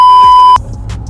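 A phone ringing with an incoming call: a steady electronic tone rings loud and alone for about half a second, then cuts off abruptly, leaving low room noise.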